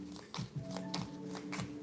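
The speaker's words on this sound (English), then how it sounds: "So as I was shuffling" Tarot cards being shuffled by hand, with soft repeated riffling and slapping of the cards, close and fairly quiet.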